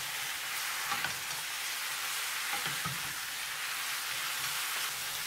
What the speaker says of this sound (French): Je mets les aromates hachées. Je passe à feu moyen. Je mélange pendant 2 minutes.